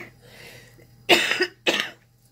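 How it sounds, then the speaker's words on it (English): A person who has been ill with the flu gives two sharp, close coughs about half a second apart, alone after a quiet moment. "Sorry. Coughing is great."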